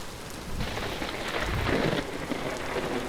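Steady rain with a low rolling thunder rumble in a video game storm, a continuous wash of rainfall with a swell of thunder in the middle, no voices.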